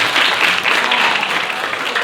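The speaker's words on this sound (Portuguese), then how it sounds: "Uma salva de palmas para a Raquel" Dense, loud applause from an audience, a steady wash of clapping filling the whole moment.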